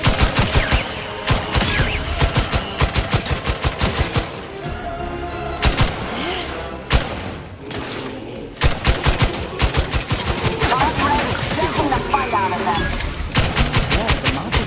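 Rapid automatic gunfire in The Outer Worlds 2 sci-fi shooter, dense bursts of shots running nearly the whole time with short gaps, loud and close, with a voice speaking over parts of it.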